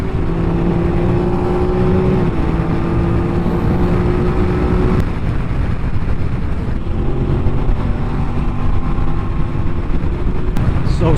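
Close motorcycle exhaust with a quick shifter while riding, a steady droning engine note with brief gear-change dips and renewed pulls, constant wind and road noise underneath.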